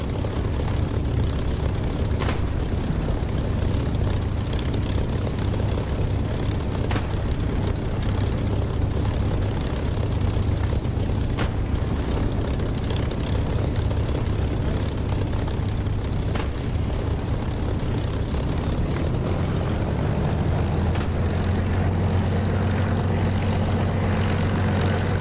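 Simulated La-7 propeller fighter in the DCS flight sim: a continuous heavy piston-engine drone with a low throbbing hum that shifts pitch near the end, loud and steady for the whole stretch without voices.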